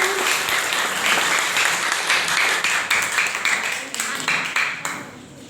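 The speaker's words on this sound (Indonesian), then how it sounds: "Sekali lagi tepuk tangan untuk kelas 10A." An audience at a school Bible-reading competition applauds a class's performance with a thick wash of clapping that gradually thins and fades toward the end.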